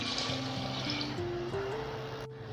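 Water poured into a pressure cooker holding whole masoor lentils, a quiet trickling fill whose tone climbs steadily as the vessel fills, then stops abruptly.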